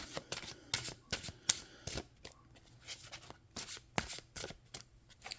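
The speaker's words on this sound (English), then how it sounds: "I guess I'll shuffle this again." A deck of tarot cards shuffled by hand in rapid, crisp riffles and taps, a fast irregular run of snaps, quiet and close with no voices.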